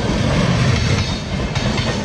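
A passenger train on the Delhi to Mangalore route via Ernakulam rolls along the rails, heard from inside as a loud, continuous low rumble with rattling wheel noise and no talk.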